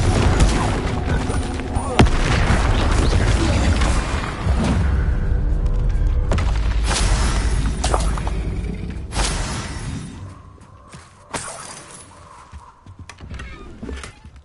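Confringo blasting-spell explosions in the Hogwarts Legacy video game come as a run of loud, booming blasts with crackling debris through most of the clip, then fade to quieter scattered impacts near the end.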